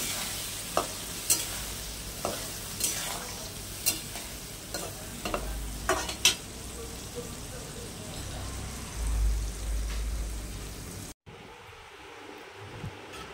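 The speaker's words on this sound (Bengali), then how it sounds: "হালকা ভাজবো, বেশি ভাজবো না।" Steamed green peas are lightly fried in a wok for peas pulao: a low, steady sizzle carries sharp, irregular taps and scrapes of a stirring spatula, then drops suddenly to near quiet at the end.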